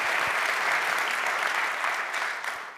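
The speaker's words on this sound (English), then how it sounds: "a round of applause for those two amazing" A live podcast audience claps, with dense, steady applause that sounds close and fills the room, then tapers slightly near the end.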